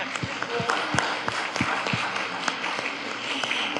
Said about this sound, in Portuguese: Uma palmas para ela